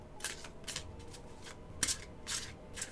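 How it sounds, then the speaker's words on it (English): Tarot card deck being shuffled by hand, a quiet series of quick riffling bursts repeating in an uneven rhythm, close and soft. "I'm gonna shuffle and tell me when to stop"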